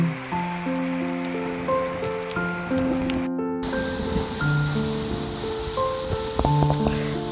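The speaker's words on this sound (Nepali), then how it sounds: "वर्षा चाहिँ एकदमै ठुलो भइसकेपछि त साइड लाग्नै पर्यो।" Heavy rain pours during village fieldwork in Nepal, a continuous dense hiss beneath tuneful background music, broken by one brief dropout.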